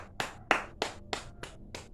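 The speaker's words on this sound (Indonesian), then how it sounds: "Tepuk tangan buat kita semua, buat kelompok Roger ya." Six or seven sharp hand claps ring out in an even rhythm in a classroom, applause for a student group, each crisp slap close and clear, no voices.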